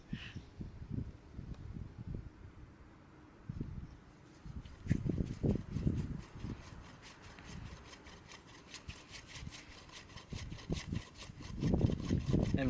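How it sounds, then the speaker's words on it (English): A knife blade twisted and scraped into a piece of bamboo while building a rat trap, producing rough rasping bursts in an irregular rhythm, close and fairly loud with pauses between strokes. "So first thing I'm going to do, I'm just going to drill into it with my knife."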